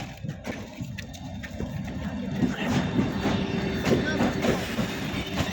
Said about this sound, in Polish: Aha, Pendolino, patrz.